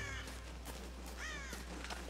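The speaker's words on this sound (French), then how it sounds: "Bel oiseau, mais..." A bird caws repeatedly in the video game Tomb Raider 2013, the calls faint and set over a steady low game ambience.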